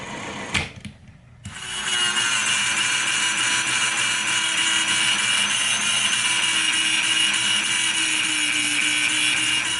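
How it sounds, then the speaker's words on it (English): A Dremel rotary tool with a diamond blade cuts into the hammer of a Crosman 2240 air pistol, a steady high whine that starts after a brief pause and grinds on loud and continuous. "Using the Dremel diamond."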